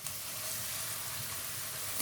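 Steady sizzling of chopped onion and garlic sautéing in hot oil, a continuous close crackle with no talking.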